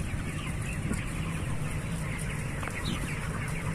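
Broiler chickens in a poultry house of about 6,000 birds, a dense continuous murmur of clucking and soft calls from many hens over a steady background hum of ventilation fans.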